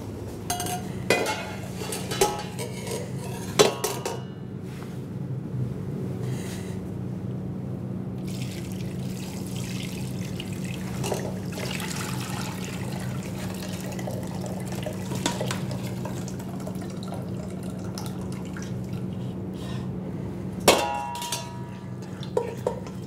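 Veal stock being poured and strained through a sieve in a kitchen, a steady trickle of liquid with occasional clinks and clangs of metal utensils, close and without speech.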